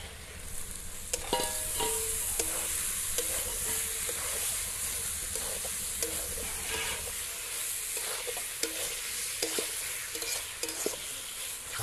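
Chicken pieces with mint and coriander leaves frying in a pan, a continuous close sizzle with repeated scraping and clattering from stirring throughout, and no talk.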